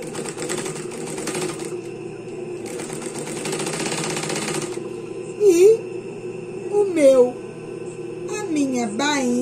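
Close-up sewing machine runs a narrow hem along a skirt with a narrow-hem presser foot, a steady fast stitching whir that pauses and restarts in bursts, while someone talks over and between the runs.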